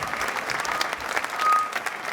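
An outdoor concert audience in Piazza Manzoni, Jesolo, applauds a singer, a brief burst of close, steady clapping with faint crowd murmur.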